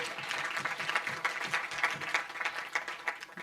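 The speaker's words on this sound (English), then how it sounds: "I think you must give yourself a round of applause." An audience at a memorial lecture breaks into steady applause, a moderately distant wash of many hands clapping that swells slightly and continues evenly without any talking.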